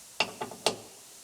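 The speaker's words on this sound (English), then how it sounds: "we'll get our torque wrench out. Click." A torque wrench tightens bolts during repair work on a 2020 Toyota RAV4 XSE hybrid, giving three sharp, close metallic clicks in quick succession with no talking.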